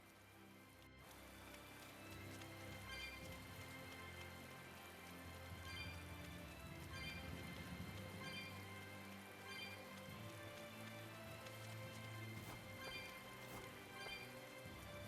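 Steady rainfall in the video game Tales of Berseria, a soft, even patter of drops on surfaces running continuously and faintly, with light musical tones beneath and no voices.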